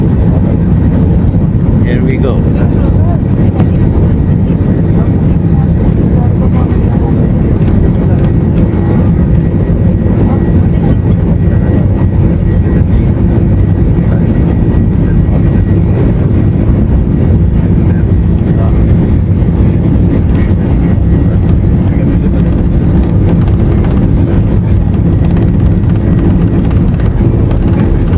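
An Airbus A330 on a Serene Air flight from Karachi to Lahore runs its jet engines at full thrust for takeoff. A loud, steady cabin roar continues throughout, and a voice speaks briefly over it.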